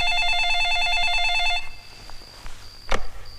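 A telephone rings in a steady, repeating electronic trill for about a second and a half, then falls silent, leaving faint room noise and a brief rustle.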